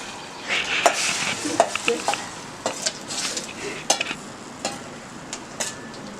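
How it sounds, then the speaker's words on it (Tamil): A ground paste of tomato, garlic, cumin and pepper frying in oil in a pan, with a spoon clinking and scraping against the metal in irregular bursts over a soft background sizzle. "அரைச்சி வச்சதை தக்காளி வெள்ளைப்புடு சீரகம் மிளகு எல்லாமே அரைச்சதை இந்த எண்ணெய்க்கில் போட்டுக்கணும்"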